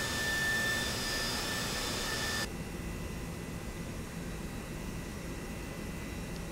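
Airbus A320 Neo jet engines in the X-Plane flight simulator give a steady broadband roar that drops to a lower, duller hum partway through, continuous and without talk.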